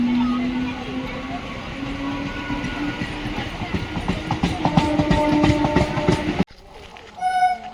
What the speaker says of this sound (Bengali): ট্রেন হ্যাঁ, ট্রেন এসে গেছে